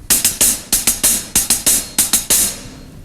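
Drums repeat a one-beat ostinato of two 16th notes followed by an 8th note, bright cymbal-heavy strokes in clustered triplet-like groups, loud, close and steady for a few bars.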